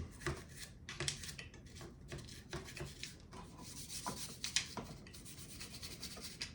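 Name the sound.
scrubbing the inside of a Zastava M70 AK47 rifle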